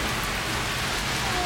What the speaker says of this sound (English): And then it hails.